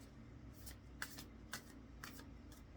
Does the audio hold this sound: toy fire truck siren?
no